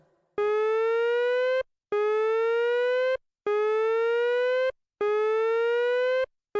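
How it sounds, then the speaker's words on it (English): A siren-system alarm from the video game Brawl Stars: four identical rising electronic tones, each holding for about a second and a quarter, separated by short silent gaps, loud and clear with no talk. "please familiarize yourself with Star Park's siren system"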